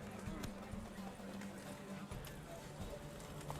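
Quiet, rhythmic hoofbeats of horses galloping in a horse race in The Witcher 3 video game, steady thudding under a low game background.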